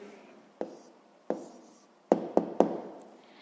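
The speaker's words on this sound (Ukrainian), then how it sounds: "Ну що ж, записуємо відповідь." A pen taps and scratches on paper in short, distinct strokes, several quick marks clustered near the end, faint and close, while a math answer is written down.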